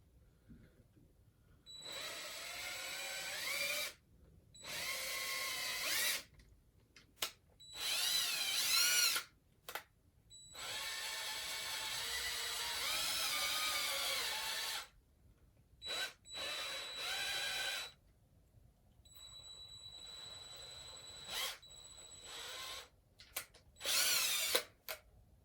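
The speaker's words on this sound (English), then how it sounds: "I got it drilled through" A power drill whines in repeated bursts as it bores through soft plastic, its motor pitch rising and falling between short pauses, up close and loud against an otherwise quiet background.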